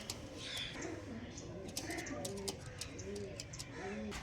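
Old-line pigeons cooing softly in repeated throaty rolls, near but quiet, with a few light ticks and a voice speaking faintly in the background.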